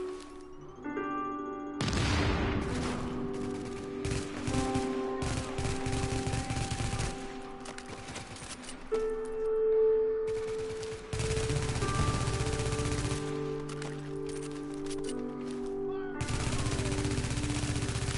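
Rapid automatic gunfire from a weapon in a video game, loud bursts of shots that start and stop in several runs, separated by short quieter gaps with occasional game tones.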